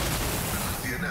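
Gunfire from the sci-fi strategy game Warhammer 40,000: Rogue Trader, a short, dense burst of overlapping shots that fills the whole brief moment at full loudness.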